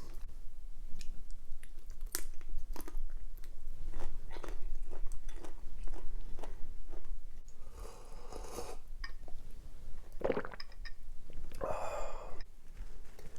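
Shrimp from a seafood kimchi soup is eaten close to the mic, with a series of wet bites, chewing and slurping sucks in irregular bursts, with a couple of louder squishy slurps near the end.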